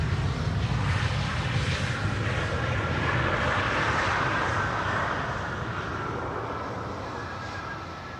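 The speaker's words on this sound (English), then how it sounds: "Cargolux, 94 kilo. Arriving from Miami, Florida. 747-400. Freighter, obviously." A Cargolux Boeing 747-400 freighter arriving at Schiphol, its engines sending a loud, steady broadband roar that holds throughout and eases slightly near the end.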